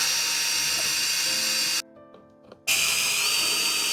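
A power screwdriver backs out the mounting screws of an electrical receptacle, whirring loudly in a sustained run, pausing briefly with a couple of small clicks, then whirring again close up.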